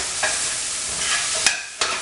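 Pieces for a honey ginger pot roast are stirred and coated with garlic, salt and pepper, giving a close, sizzling hiss with a few sharper scraping strokes.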